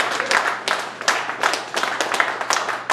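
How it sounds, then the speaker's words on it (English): A small comedy-night audience claps for comedian CJ in a short burst of close, uneven hand claps, with distinct individual claps standing out rather than a dense roar. "Give another round of applause for CJ."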